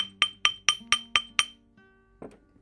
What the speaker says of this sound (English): Thread it back onto the mandrel, and you can even hammer it more.